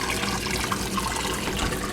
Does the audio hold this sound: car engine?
no